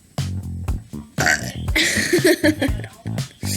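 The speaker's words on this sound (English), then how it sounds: "That's how you burp." A person forces out a couple of loud, croaky burps with brief breathy pauses between them, close to the ear.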